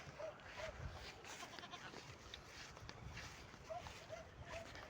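Goats on parched, dried-out grass bleat faintly a few times in short calls against a quiet outdoor background, with people talking nearby.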